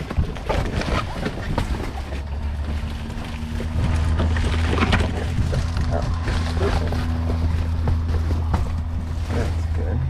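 A small single-engine training airplane's piston engine turns over and settles into a steady droning idle on the ground before a first flight-school lesson, with an instructor talking over the engine noise.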